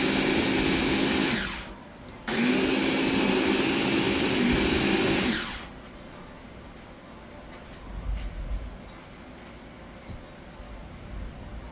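A kitchen blender whirs loudly as it purees a yuca (cassava root) mixture. It spins down briefly, restarts for a few more seconds, then stops, leaving softer background noise.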